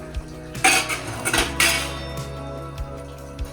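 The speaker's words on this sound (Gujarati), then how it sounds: "વાસણ લૂછે છે" Dishes and utensils clatter and clink a few times nearby, with scraping handling sounds and small knocks in between.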